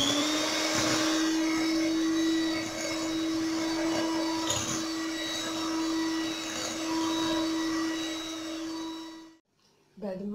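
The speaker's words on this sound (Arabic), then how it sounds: "بعد ما طربت البيض مع السنيدة" An electric mixer whirs steadily while beating eggs with sugar, a loud, constant motor whine close by that holds for several seconds before cutting off abruptly near the end.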